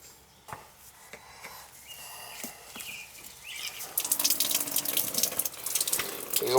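Water hissing and splashing from a leaking outdoor shower valve, starting as faint drips and knocks, then swelling into a steady, loud rushing spray for the last few seconds.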